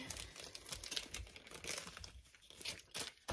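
A 10-euro banknote being taken and handled, with soft crinkling and rustling of paper in small bursts, close and quiet.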